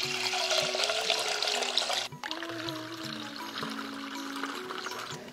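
Soaked moong dal being rinsed in water, a steady splashing, trickling wash that runs close and fairly loud for a few seconds, briefly dropping off before continuing.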